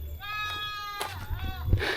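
Goats in a pen in a remote Javanese village bleat in a couple of quavering, nasal calls close by, with faint rustling and background murmur around them.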